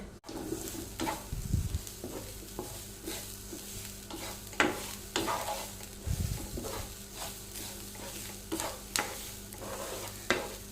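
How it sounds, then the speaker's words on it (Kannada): Grated coconut frying with turmeric powder in a pan, a steady sizzle under repeated scraping stir strokes and a few louder clanks of the spoon, close and moderately loud throughout. "ಒಂದು ತೆಂಗಿನಕಾಯಿ ಅರ್ಧ ಭಾಗವನ್ನು ತುರಿದು ತಗೊಂಡಿದ್ದೇನೆ ಅದನ್ನು ಫ್ರೈ ಮಾಡ್ತೇನೆ"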